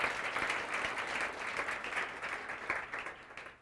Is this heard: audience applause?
yes